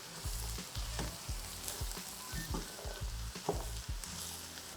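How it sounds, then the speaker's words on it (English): Eggplant and garlic sizzle in a hot oiled pan, with repeated rhythmic tossing and scraping strokes over a steady frying hiss, close and fairly loud. "So you add in the eggplant. Give this a good toss."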